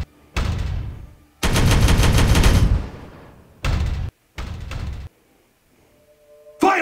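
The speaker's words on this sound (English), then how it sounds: "Firing on target." Loud, close machine gun fire in the Regicide video game, several separate sustained bursts of rapid shots with short silent gaps between them.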